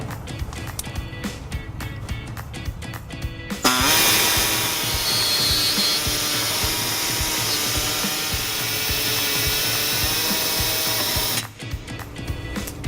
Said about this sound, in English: to make a small notch in our access hole, I'm going to be using an air saw